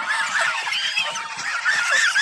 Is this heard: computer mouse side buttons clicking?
no